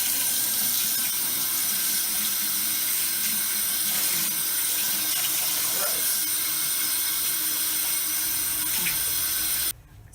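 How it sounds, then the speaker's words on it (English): Running water rinses tea-dyed fabric in a sink, a steady close hiss of flow from the tap continuing almost the whole time before cutting off near the end. "I am going to rinse them out and we'll see what that does to anything"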